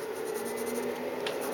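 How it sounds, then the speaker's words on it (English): A regular wooden pencil shades on paper with a soft, continuous scratchy rubbing, close and steady, with no voices. "I usually just shade with a pencil like I'm using right now"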